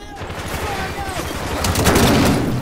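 Call of Duty 4: Modern Warfare gunfire, a short burst of rapid shots building to a louder volley near the end, with voices shouting over the fight.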